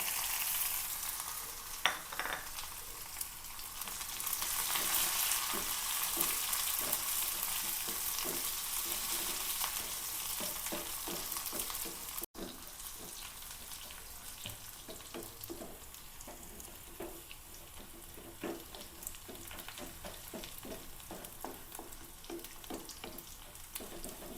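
Onion and chillies sizzle steadily in hot oil with mustard seeds for a tempering, a continuous crackling hiss broken by light clicks of stirring, with no voices.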